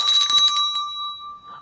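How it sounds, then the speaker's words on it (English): A small bell is shaken quickly in a fast jingling burst, close and bright, then its tone rings on and fades away. "which is the bells, which can be a little louder."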